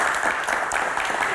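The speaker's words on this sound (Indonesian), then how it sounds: "Terima kasih, tepuk tangan dong." A crowd of university students claps steadily throughout a Q&A event, a dense, even wash of applause with no pauses.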